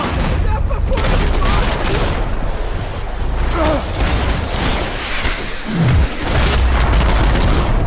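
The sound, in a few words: gunfire in video game Max Payne 3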